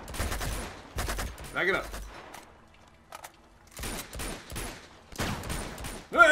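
Gunfire from the video game Uncharted 2 comes in several loud bursts of shots separated by pauses, with people talking over and between the volleys.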